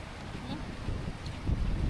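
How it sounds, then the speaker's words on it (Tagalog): Strong gusting wind during a storm with heavy rain in Hong Kong, buffeting the microphone as a steady low roar that swells louder toward the end, with faint voices underneath. "Sobrang lakas ng ulan, hangin pala."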